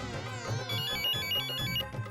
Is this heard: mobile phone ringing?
yes